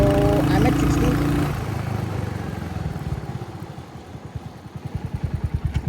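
A Royal Enfield Hunter 350 motorcycle with dual-channel ABS brakes hard from 60: engine note falls away as the bike slows, ending in a steady low idling thump, with wind rush early on.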